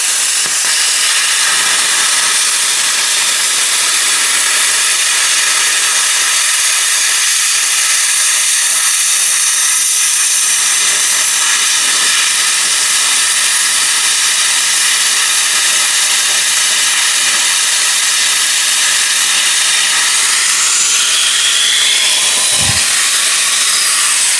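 A plasma cutter slices half-inch metal on 110 volts, giving a loud, steady, rushing hiss that runs unbroken for the whole stretch, with a brief low thump near the end.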